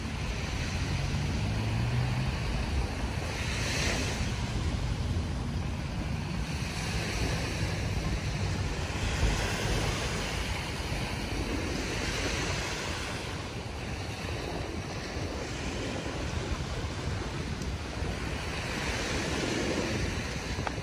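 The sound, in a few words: waves on the shore at Dolomite Beach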